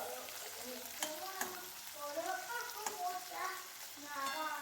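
Prawns fry in a pan with a soft, quiet sizzle and stirring crackle, faint voice traces drifting in the background.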